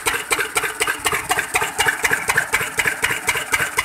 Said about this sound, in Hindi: ये अच्छी खासी पावर का इन्होंने इंजन लगाया है